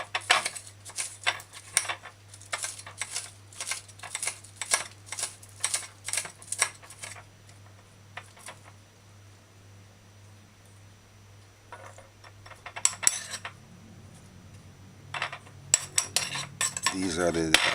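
Knife slicing onions on a cutting board for pork and butter bean brown stew, a fast steady run of crisp taps that pauses midway and then resumes in scattered chops, close up, no talking.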